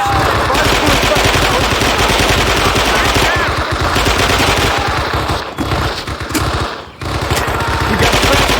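Sustained machine gun fire in the Vietnam War video game Men of Valor, rapid loud bursts hammering almost without pause, with brief dips and battle noise layered in.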